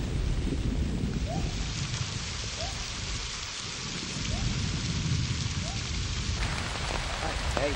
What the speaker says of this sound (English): The rain becomes more intense and it's almost nightfall.